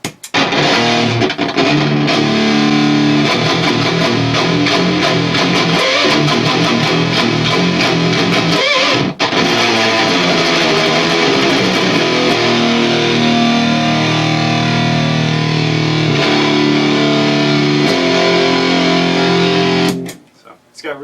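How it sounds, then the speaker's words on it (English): An electric guitar plays through a Z.Vex distortion pedal with its tone control off, giving loud, crunchy, sustained chords that ring continuously for about twenty seconds before cutting off sharply. "It's really crunchy. It's got a lot of sustain and more distortion"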